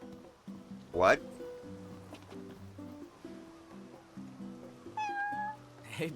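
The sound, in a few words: cat meowing in the video game Final Fantasy XV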